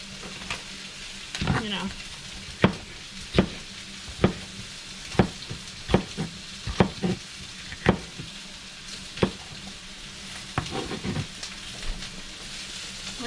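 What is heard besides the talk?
steak and onion sizzling on a flat top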